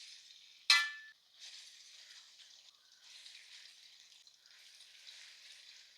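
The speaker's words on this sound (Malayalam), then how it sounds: "ഇതാ ഇനി നമ്മുടെ മീന് കുറേശ്ശെ കുറേശ്ശെ ഇട്ട് വറുത്ത് കോരി എടുക്കാവേ" Fish pieces slipped into hot oil and fried for fish pickle: one sharp clatter early on, then a soft, uneven sizzle that hums along quietly with no talking.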